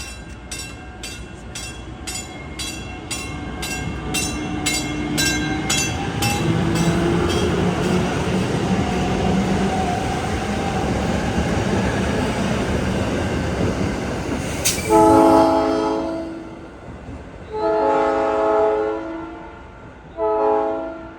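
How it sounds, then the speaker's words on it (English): A South Shore Line electric multiple unit led by car 107 rumbles past at close range with a steady rolling roar and rhythmic crossing-bell dings, then sounds several loud, sustained horn blasts as it goes by. "Before our train arrived, another South Shore multiple unit came by,"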